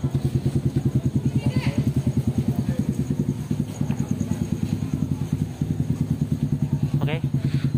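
A motorcycle engine idles nearby in a parking area after rain, a steady rapid low putter that barely varies, with brief voices talking over it in the background.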